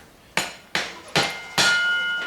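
Four heavy hammer blows strike metal while fabricating a fork brace, at a slow, even pace, each leaving a ringing metallic resonance that lingers and builds toward the end.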